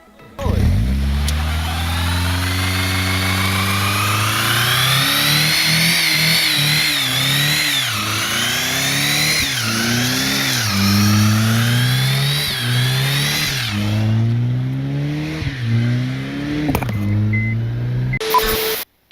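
An 8th-generation Honda Civic doing a burnout, its engine revving hard and close in repeated rising surges that drop back and climb again, a loud continuous roar lasting nearly twenty seconds before cutting off.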